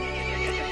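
A horse neighs in the horror video game Resident Evil Village, a loud, sustained whinny that fills the short moment on its own against a dense game soundscape.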